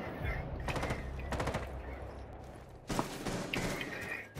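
Video game gunfire aimed at the player, with rapid machine-gun bursts in several volleys, loud and close, separated by short pauses.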